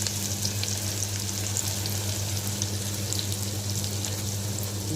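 Onions sautéing in a pan for Tamil-style tomato rice, a dense continuous sizzle with a low steady hum beneath, close and even throughout, no voices.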